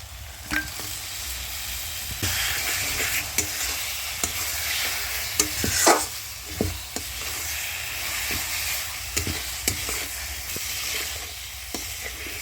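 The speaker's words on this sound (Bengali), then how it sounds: "নাড়াচাড়া করে ভেজে নিয়েছি" Mutton fries in a spice masala of cumin, coriander and pepper, producing a dense crackling sizzle. Repeated scraping strokes of a stirring utensil mark an irregular rhythm, close up and without speech.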